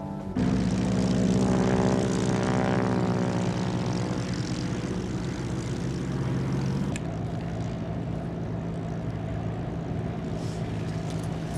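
A propeller airplane flies downwind for landing, its engine drone loud and steady throughout, with a strong buzzing tone easing after a few seconds and continuing without speech.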